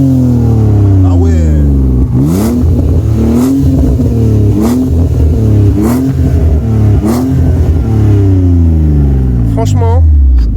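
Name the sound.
car engine accelerating with a whooshing sound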